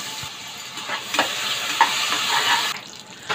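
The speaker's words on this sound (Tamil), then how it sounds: "இதில் வந்து பெரிய வெங்காயம் 1 வெங்காயம் நறுக்கி போட்டுக்கோங்க. வெங்காயம் நல்லா கோல்டன் ப்ரௌனாக வதங்கணும்." Sliced onion sizzles in hot oil inside a pressure cooker, a steady close crackle with a few louder pops and scraping stirs, and nobody speaks.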